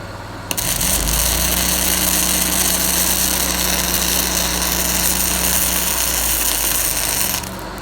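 A Miller Trailblazer 325 EFI engine-driven welder, running a Miller 12RC suitcase welder, ramps up and runs at a steady loud mechanical drone for several seconds before dropping back toward idle, close by.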